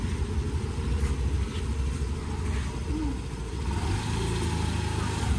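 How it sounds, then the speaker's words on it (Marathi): A car pulls away for a drive after a puja ceremony: a low, steady engine rumble swelling slightly as it moves off, moderately close, with a faint bird call in the background. "असं गाडीची पूजा झालेली आणि गाडी राऊंडला गेलेली आहे"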